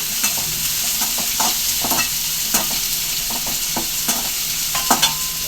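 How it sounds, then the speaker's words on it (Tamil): Onions sautéing in hot oil in a pan for chana masala, a steady close sizzle broken by repeated scraping stir strokes at an uneven rhythm, with no voices. "வெங்காயம் நல்லா வதங்கட்டும் அதுக்கு கொஞ்சம் கூட்டி வச்சுருவோம்"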